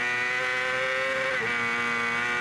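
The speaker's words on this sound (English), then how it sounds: "Goes flying past there. Remember, these are R6 Yamahas that are fighting." Yamaha R6 racing motorcycles scream past on a track at a national superbike round, a loud, sustained high-revving engine wail with a brief pitch dip as a bike passes close by.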